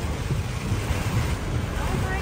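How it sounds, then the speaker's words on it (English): Strong storm wind in Jacksonville, North Carolina, roaring and buffeting the microphone in a loud, continuous gusty rush, with brief voices under it. "You know, it's a lot of wind"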